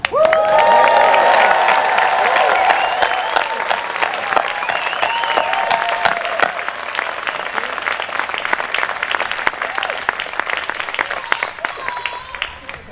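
An inauguration audience at Earlham breaks into loud applause and cheering, dense clapping with shouts and whoops that stays strong before gradually thinning out over several seconds.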